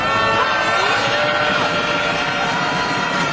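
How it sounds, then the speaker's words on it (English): A dense crowd murmur of Israeli protesters gathering for a weekly demonstration in a Tel Aviv square, indistinct voices and scattered shouts, a broad steady wash of noise outdoors. "That's the sound of Israeli protesters gathering for a weekly demonstration at a square in Tel Aviv."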